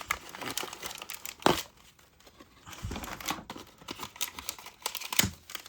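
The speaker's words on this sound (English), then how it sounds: "So I am just going to cut here at the back to try to save us a little bit of time." Plastic doll packaging for a Monster High tennis doll is cut open at the back, with close crinkling and crumpling and a few sharp snips or tears.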